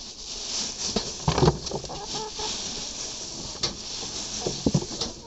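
Chickens being fed leaves cluck and chatter nearby over a soft rustling hiss, with a few sharper, louder clucks standing out from the steady background of the flock.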